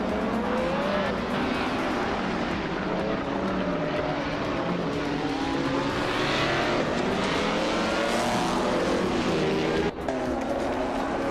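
A 1954 Maserati 250F race car in a racing video game drives among other cars, its engine a steady loud drone with shifting revs that continues throughout without pause.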